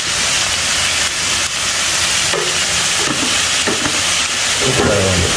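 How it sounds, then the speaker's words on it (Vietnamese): Tomatoes stir-frying in a pot for a Vietnamese tuna noodle soup, a loud continuous sizzling hiss with occasional scraping stirs near the end, close up and without talk. "Mình xào cà này mình bỏ vô nồi."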